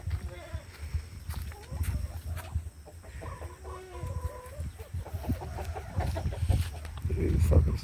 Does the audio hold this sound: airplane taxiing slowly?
no